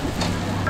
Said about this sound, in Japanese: すごい、ジュージュー言ってるよ。